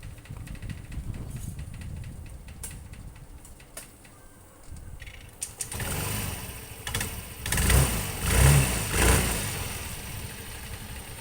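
A Yamaha Fino scooter's engine, its starter just repaired, starts after a stretch of quiet mechanical fiddling, then runs and revs loudly with rising surges of engine noise near the end.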